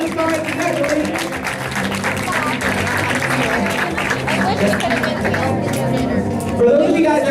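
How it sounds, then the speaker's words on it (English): Audience applause for newly promoted stars at a spa party training event, steady clapping with crowd chatter and voices talking over it throughout. "Can we get a round of applause for our brand new stars?"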